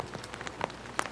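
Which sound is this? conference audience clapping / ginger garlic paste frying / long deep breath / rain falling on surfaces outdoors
rain falling on surfaces outdoors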